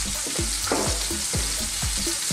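Garlic and thyme frying in olive oil in a pan over fairly high heat, giving a steady close sizzle broken by regular scraping stirs about twice a second.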